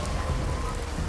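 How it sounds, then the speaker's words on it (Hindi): Steady rain pours on a deserted road at night in a village, a dense, constant hiss with low rumble filling the whole moment, no voices present. "बारिश में भीगते हुए रीमा घर के लिए निकल रही।"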